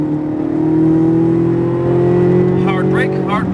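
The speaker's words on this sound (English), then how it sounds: "Adding gas. To full throttle," A race car engine drones loud and close at full throttle, a steady rising tone that climbs slowly in pitch, while someone speaks briefly over it near the end.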